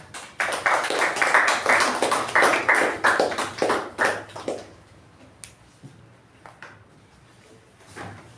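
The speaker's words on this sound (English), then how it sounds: "With a huge round of applause, please welcome Toastmaster Shreya." A club meeting audience applauds to welcome a speaker: a burst of brisk clapping, loud and close, lasting about four seconds before breaking off into a few scattered final claps and near silence.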